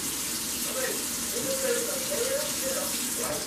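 Tap water runs steadily from a faucet into a sink while aluminum Lionel postwar passenger cars are washed, a continuous close rushing wash with no pauses.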